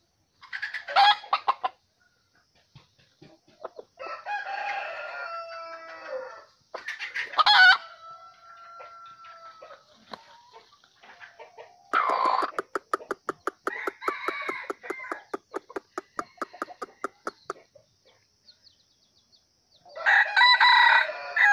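Mini golden-plumaged decoy roosters crow and cluck in loud, close bursts separated by silent gaps, with long, rapidly pulsing calls in the middle.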